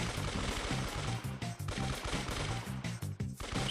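Rapid bursts of automatic gunfire in a one-versus-one shooter video game, dense repeated shots loud and close throughout, with brief gaps between volleys.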